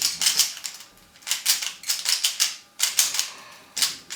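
A 3x3 Rubik's cube being scrambled, with quick bursts of plastic clicking and rattling layer turns up close, coming in short clustered flurries with brief pauses between them.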